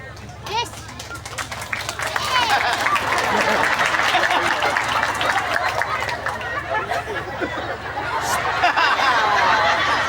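A crowd at an Islamic religious gathering in Karangasem, Panti, Jember claps for about ten seconds, mixed with murmuring voices and chatter throughout.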